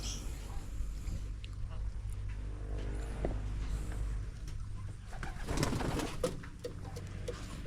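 Pigeons cooing close by in soft repeated calls, with a person talking over them and faint background noise throughout.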